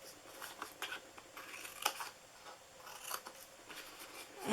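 Scissors snipping through paper box pieces for a DIY Easter bunny gift box, faint close cuts and rustling in an irregular sequence, with no talking.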